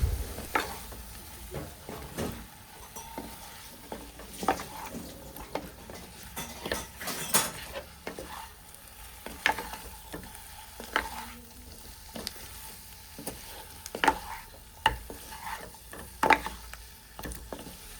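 Fried chicken stirred and mixed in a hot pan with spice powder, a steady sizzle broken by repeated scraping and clinking strokes of a spoon against the pan, close and continuous with no talk.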